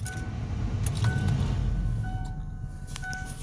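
A 2002 Ford Explorer is started up, with a low engine rumble settling into an idle, accompanied by jangling keys and a few light clinks nearby.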